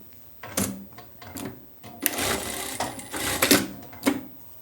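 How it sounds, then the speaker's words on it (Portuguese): A straight-stitch sewing machine stitching through elastic, running in short close bursts of rapid mechanical whirring separated by brief pauses. "Então aqui agora na máquina reta, o que eu vou fazer?"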